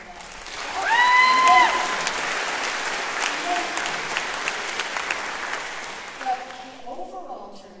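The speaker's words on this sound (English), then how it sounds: "You should applaud California," Steady audience applause for California fills the room, swelling early then holding at an even level, with a voice speaking over the clapping at the start and again near the end.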